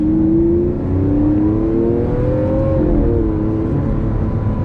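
A loud Lamborghini Aventador LP700-4 V12 exhaust roars close by while accelerating, its pitch climbing steadily and then easing off in a continuous throaty drone.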